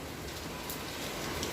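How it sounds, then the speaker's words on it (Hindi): Dense, steady rain pours down, a constant hiss of drops striking surfaces with no pauses. "कितनी बारिश हो रही है बाहर,"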